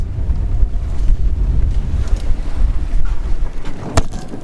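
Sailboat moving under jib at about 4 knots, with loud gusty wind buffeting and the rush of water along the hull, continuous and close.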